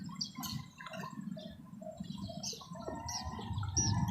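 Several birds call over open, calm Laguna Lake, with scattered chirps and short high calls at moderate distance above a steady low rumble of water and motor.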